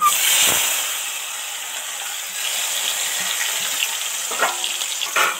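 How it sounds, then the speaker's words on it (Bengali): Onion and tomato hitting hot oil in a pan for chicken curry, a bright sizzle that eases into a steady frying hiss with a few clinks of utensils, close by and without talk. "এবার এর মধ্যে পেঁয়াজ আর টমেটোটা দিয়ে দেব।"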